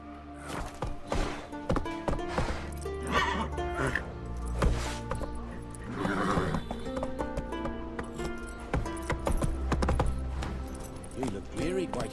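Roach, Geralt's horse in the video game The Witcher 3: Wild Hunt, neighs and clops along over a dense game soundtrack, with someone talking at times throughout.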